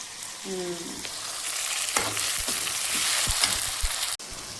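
Green chillies, garlic, ginger and onion frying in a pan for okra masala, a loud steady sizzle close up with scattered stirring knocks and a sharp clink near the end.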